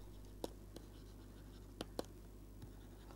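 A matrix row operation is written out by hand as faint, sparse scratches and taps, a few brief strokes over a low steady hum in a quiet room.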